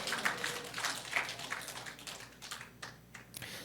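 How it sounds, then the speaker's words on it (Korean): A church congregation applauding, giving a short burst of fairly faint, sparse clapping that lasts about four seconds with no voices over it. "하나님께 감사하다고 영광의 박수를 드립니다"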